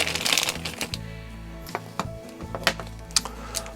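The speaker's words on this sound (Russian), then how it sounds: "Пакетики, целлофанки убираем." Plastic bags and cellophane wrapping are pulled off a newly unpacked Daiwa 20 Tournament Basia 45 SCW QD fishing reel, giving close crinkling, rustling and a series of sharp clicks over a low background hum.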